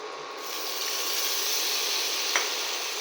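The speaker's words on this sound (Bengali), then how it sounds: "জল দিয়ে ভালো করে কষে নেব" Masala sizzling in a pan as water is added and stirred while cooking a fish curry with potato and pointed gourd, a steady close hiss with a faint clack of a spoon partway through.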